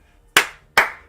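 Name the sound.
clapping hands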